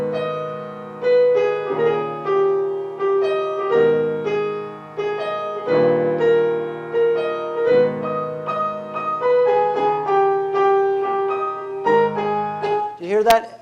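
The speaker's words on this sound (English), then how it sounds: "I'm just playing block chords." Piano plays sustained block chords in the left hand instead of a broken Alberti bass, steady chord changes ringing for about a dozen seconds under a melody, with no talking.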